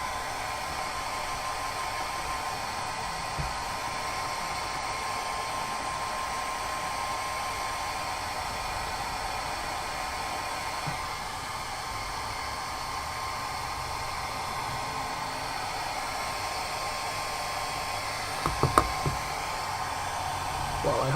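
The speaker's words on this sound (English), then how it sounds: "Your hair dryer, you're up again." A hair dryer hums steadily and evenly throughout, a constant airy whoosh at moderate level, with a few small knocks near the end.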